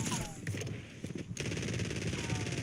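Rapid submachine-gun fire crackles in quick bursts during a Warzone match, fairly faint and mixed with game noise and a voice.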